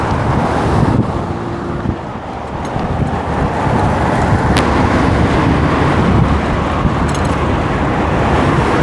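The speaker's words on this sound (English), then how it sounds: "And now I'm just in traffic." Road traffic rumbles past a cyclist riding in winter traffic in Winnipeg, a loud, continuous roar of engines and tyres mixed with heavy wind buffeting on the microphone.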